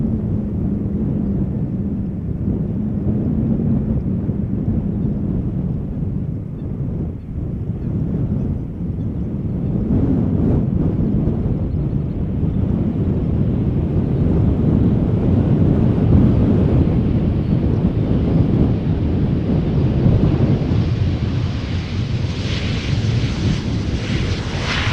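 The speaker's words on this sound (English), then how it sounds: "Up next, Embraer 190 arriving from Brussels," A KLM Embraer 190 jet arriving at Schiphol Airport from Brussels produces a steady, loud rumbling roar that slowly rises into a brighter whine, heard outdoors with wind buffeting the microphone and no talk.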